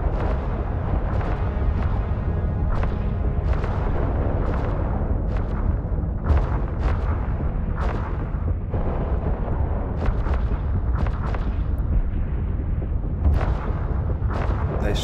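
Ships in the space game EVE Online fire weapons in a loud, continuous barrage of booming bursts and pops layered over a heavy rumbling bed for the whole stretch.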